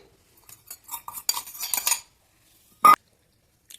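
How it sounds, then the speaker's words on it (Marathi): A metal spoon clinks and scrapes against a pan as ghee is added while cooking jaggery laddus, giving a quick cluster of close taps followed by one sharp clink after a short pause. "चार ते पाच चमचे तूप बाकी राहिलेलं आहे तर आपण टाकून घेऊया पॅनमध्ये"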